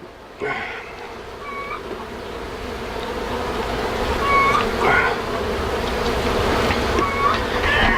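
Honey bees buzzing steadily during a hive removal in a shed, a continuous close drone with a few higher tonal squeaks and chirps over it, no talk.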